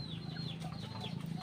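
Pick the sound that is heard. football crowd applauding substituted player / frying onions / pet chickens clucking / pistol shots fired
pet chickens clucking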